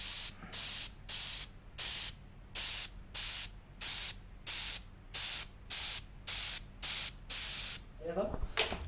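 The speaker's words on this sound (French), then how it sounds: "j'arrose ma voie" A hand sprayer mists water onto model railway track ballast in about fourteen evenly spaced, short hissing bursts, close and steady, with a brief faint rustle at the end.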